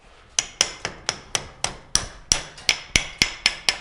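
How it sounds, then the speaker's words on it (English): A ball peen hammer strikes metal to knock off dross, roughly a dozen sharp ringing blows at an even, fairly quick pace, close and loud with no talking. "we know the most effective way now is the ball peen"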